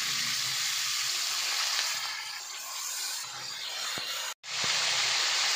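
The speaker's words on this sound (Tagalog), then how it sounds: "Nagpainit na pala ako ng mantika at prituhin na natin ito." Tilapia sizzles and crackles steadily in hot oil, a loud broad hiss with a few small pops and one brief dropout near the end.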